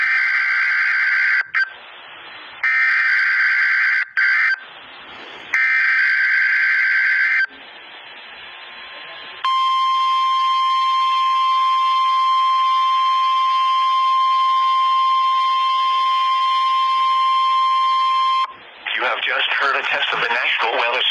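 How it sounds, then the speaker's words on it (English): Weekly test of a NOAA National Weather Service weather radio warning alarm in Oklahoma City: a single loud, steady tone held for about nine seconds after a stretch of broadcast speech and before more talk resumes. "Test of the National Weather Service radio warning alarm feature."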